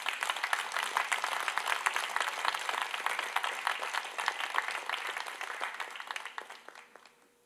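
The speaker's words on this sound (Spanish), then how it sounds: "Aplauso al Señor, por favor." A church congregation applauds steadily, a dense patter of many hands that gradually fades toward the end.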